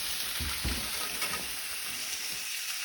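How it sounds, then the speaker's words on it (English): Pieces of food are tossed in a hot frying pan, sizzling steadily with a couple of soft shaking thumps early on, no voices. "I'm actually going to just give them a little toss just to make sure they're cooking evenly."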